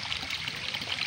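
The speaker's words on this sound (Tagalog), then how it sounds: "Tubo na nakatutok sa lupa, tapos naapaw na." Water gushes steadily out of a pipe pointed at the ground from an overflowing spring, a constant splashing rush heard close and alone.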